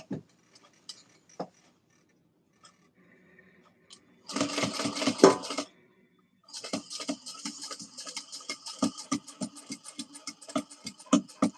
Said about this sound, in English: I'm going to stitch across the bottom. Just top stitch it so it'll look nice.